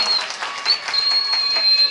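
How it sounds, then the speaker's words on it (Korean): An audience at a student church gathering applauds, a brief burst of brisk clapping with a steady high tone running through it, lasting about two seconds. "자, 힘차게 박수 한번 쳐주시죠."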